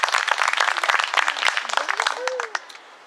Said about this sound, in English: Let's give our new Eagle Scout one more round of applause.